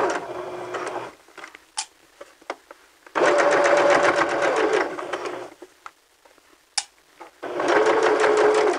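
A sewing machine stitches a seam along a 5/8-inch line in three distinct bursts of fast, buzzing stitching, with quiet pauses in between.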